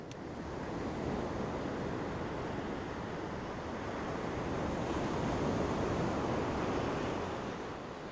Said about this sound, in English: You still do get the sound of the surf, used somewhat like this.